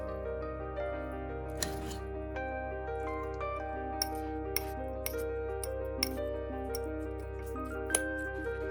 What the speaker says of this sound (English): I'm going to mix all these ingredients together well